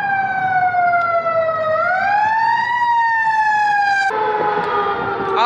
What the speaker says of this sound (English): See, you already hear the sirens.